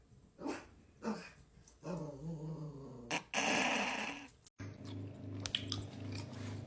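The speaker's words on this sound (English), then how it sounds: "That's a cute dog." A dog growls and chews close up, giving short gnawing bursts and throaty rumbles, then a longer noisy snarl before a sharp cut to a quieter, steadier background.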